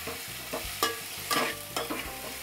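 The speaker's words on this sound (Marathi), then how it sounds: "आता हे चांगलं मिक्स करून घेऊ।" Potatoes and masoor dal stirred in a pan, soft scraping strokes with brief clinks at irregular intervals over a faint sizzle, close and quiet.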